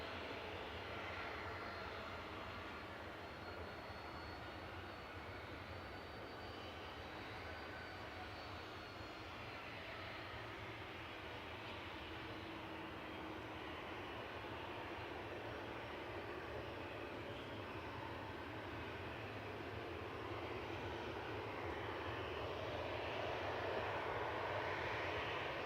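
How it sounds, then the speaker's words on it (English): KLM Boeing 737-900 jet airliner at Manchester Airport, a steady distant engine roar that swells slightly toward the end, heard alone with no talk. "KLM 737-900 heading back to"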